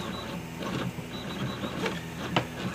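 A Prusa i3 CTC 3D printer with an upgraded extruder runs steadily nearby, giving a continuous motor whir with shifting stepper tones and faint clicks throughout.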